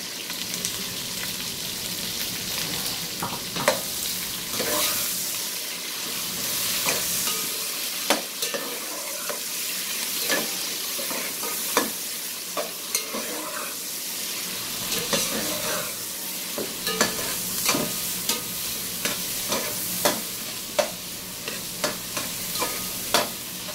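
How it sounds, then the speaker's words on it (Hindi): Sliced onions fry in oil for chicken biryani, a constant sizzle broken by frequent scraping clinks of a spoon stirring the pan. "फ्राई कर लें कि आपकी प्याज गोल्डन कलर में आ जाए"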